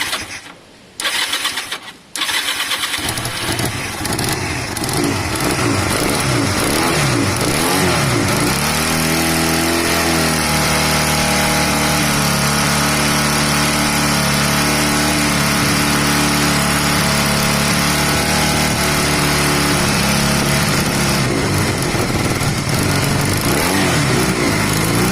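A Honda CB250 motorcycle on a cafe racer build is cranked over a few times, catches, and settles into a loud, steady close-up idle that carries on without interruption.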